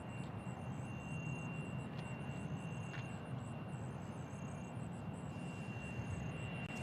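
Embraer E175 jet airliner at Nashville International Airport, a faint, steady distant engine rumble lasting several seconds with a thin high whine above it.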